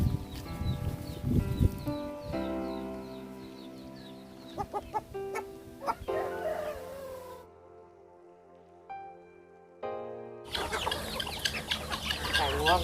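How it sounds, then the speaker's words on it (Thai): Native Thai free-range chickens cluck and crow on a mixed farm, with repeated near calls over outdoor background noise, some sharper thumps, a brief quiet gap and then a burst of rustling. "ไก่พันพื้นเมืองนี่นี่ พื้นเมืองพื้นเมืองเลย"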